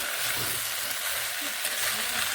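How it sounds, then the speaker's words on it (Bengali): Onion stalks (piyaj koli) and potatoes frying in a pan with salt and turmeric give off a steady, moderate sizzle with a broad hiss that runs throughout, without clear talk. "পেঁয়াজ কলিগুলোকে আলুর সঙ্গে বেশ ভালোভাবে একটু ভেজে নেব"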